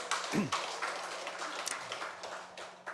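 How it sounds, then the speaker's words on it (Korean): A church congregation claps in praise during a Sunday service, a soft, steady patter of many hands at moderate distance with faint voices mixed in. "우리 하나님께 영광의 박수 올려드리겠습니다."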